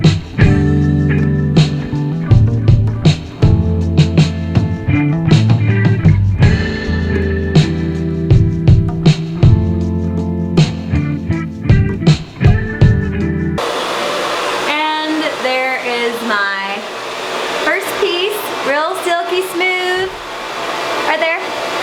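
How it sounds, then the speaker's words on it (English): A blow dryer roars loudly and steadily for over ten seconds during an at-home hair blowout with a brush, then cuts off as a voice talks over quieter background sound. "And then I'm gonna take my brush and my blow dryer. It's gonna be really loud."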